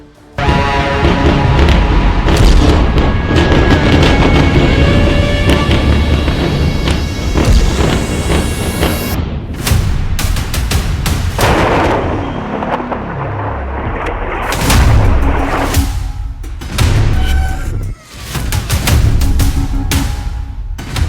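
Airstrike explosions and artillery fire in Lebanon and Gaza, loud continuous rumbling blasts and crashes layered with a rising whine, with heavy booms repeating throughout.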